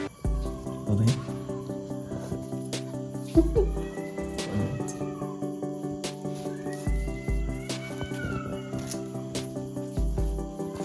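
A cat meows several times at a festival outing, the cries rising and falling over a steady bed of layered tonal background sound, with faint voices now and then.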